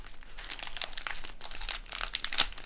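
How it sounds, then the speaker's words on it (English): A plastic parcel bag from a craft advent calendar being torn open by hand, with crisp crinkling and ripping noises in close, continuous bursts. "Just rip it. Rip it."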